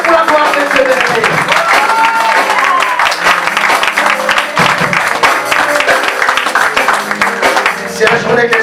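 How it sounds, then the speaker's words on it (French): A church congregation applauds loudly and continuously, dense clapping filling the space, with a voice and music carrying over the top throughout. "Acclamons pour la gloire de Dieu, bien-aimé"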